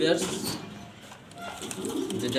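A low cooing murmur from Jharna shirting pigeons rises, dips and returns, heard close by with a faint voice-like sound mixed in.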